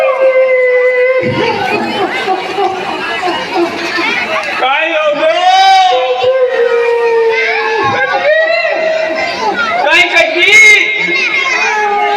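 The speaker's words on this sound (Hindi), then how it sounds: "बच्चा रो रहा है जोर जोर से।" Children flying kites outside are shouting loudly and continuously, with a child's high wailing cry rising over the lively outdoor clamor.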